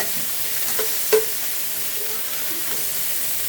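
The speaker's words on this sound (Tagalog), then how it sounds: "mag-gisa na tayo. Isa natin yung sibuyas, bawang tsaka luya" Onion, garlic and ginger sautéing in a pot, a steady close sizzle with a few scraping stir clicks and brief sharper pops, no voices.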